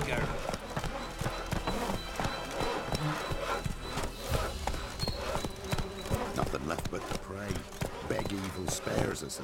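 Hooves of a horse in The Witcher 3 video game thud in quick, rhythmic clip-clops as it gallops through White Orchard, fairly loud and close, with game speech and ambient sound layered over the beat.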